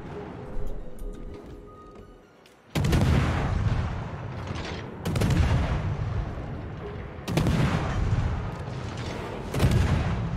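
Heavy tank guns firing in a video game, four loud booming shots roughly two seconds apart, each followed by a long rumbling decay.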